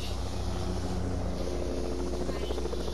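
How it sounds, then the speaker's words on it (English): A helicopter in the video game Fortnite gives off a loud, continuous rotor thrum with rhythmic blade chop, steady and close throughout, with faint voices beneath. "They're on a helicopter?"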